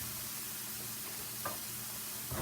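Burgers sizzle in oil in a skillet as a steady hiss and crackle, with a brief scrape of a turner flipping a patty partway through.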